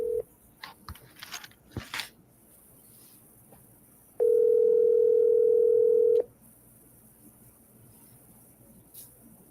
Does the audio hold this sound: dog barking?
no